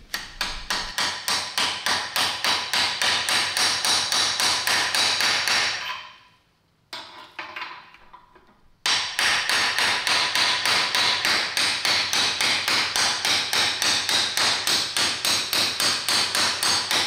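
An air hammer drives a new ball joint into a Polaris Sportsman 500 ATV, loud rapid rhythmic pounding in two long bursts separated by a short pause, with no talk.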